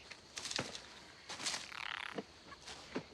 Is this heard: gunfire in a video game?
no